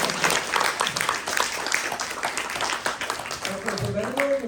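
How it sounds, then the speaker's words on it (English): An audience at a spiritual talk claps together in a dense, lively round of applause, ending as a speaker's voice comes in near the end. "So once again, louder applause."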